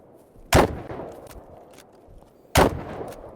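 Two sharp, loud gunshots from a multiplayer shooter game, spaced about two seconds apart, each with a booming tail over a low background rumble.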